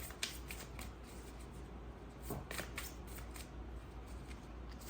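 Tarot cards being shuffled by hand, a soft rapid riffling and flicking, close but faint, continuous over a low background hum, with no talking.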